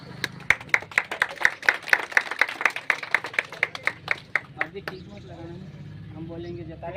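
Rhythmic clapping from a crowd at a coaching centre inauguration in India, sharp regular claps for about five seconds that then fade into background chatter.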